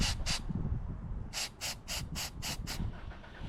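Short bursts of MAF sensor cleaner spray hiss close by onto a car's mass airflow sensor: two quick sprays, a pause, then six rapid spurts in a steady rhythm.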